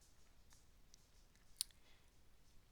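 A single sharp computer mouse click, close and crisp, standing alone against a quiet background while a PowerPoint file is being worked on.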